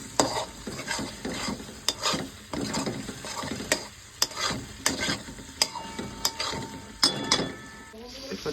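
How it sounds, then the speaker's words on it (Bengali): Turmeric and chilli powder sautéing in a pan for a potato and egg curry, stirred with a spatula in a steady rhythm of scraping strokes over a light sizzle. "হলুদ দিয়ে দিলাম লঙ্কা গুঁড়ো কষা কষা হয়ে গেলে এই হাফ ভেজে রাখা আলুগুলো দিয়ে দেবো"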